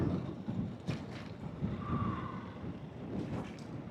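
Gusting wind buffets the microphone on a rainy monsoon motorcycle ride, a steady rushing roar with rising and falling bursts throughout.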